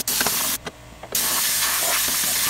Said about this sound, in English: Now I'm going to spray with this same nozzle everywhere that I can see.